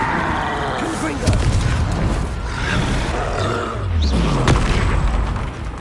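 Deep booming spell blasts from the Confringo fire spell in the Hogwarts Legacy video game, several heavy thuds and rumbles in a dense mix of game noise while a voice shouts over them.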